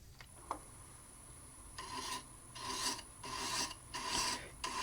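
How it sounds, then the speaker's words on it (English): A hand thread chaser cuts threads into a wooden piece, giving repeated raspy scraping strokes in an uneven rhythm, close and fairly quiet, with a faint steady whine behind. "Let me show you how much easier it is with a regular thread chaser."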